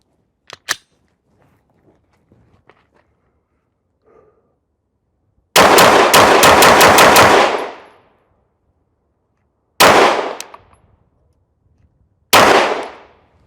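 Gunshots fired at a paper target 15 meters away while testing a Sightmark Ultra Shot M-Spec reflex sight: one early sharp shot, then a rapid string of about ten loud cracks, followed by two more single shots spaced apart.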